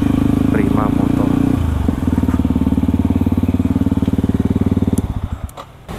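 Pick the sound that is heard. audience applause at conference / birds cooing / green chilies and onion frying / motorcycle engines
motorcycle engines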